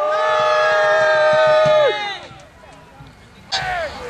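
Spectators at a Royalist battle reenactment at Glemham Hall cheer for the Cavaliers in a loud, sustained shout that breaks off after about two seconds, followed by a brief second burst.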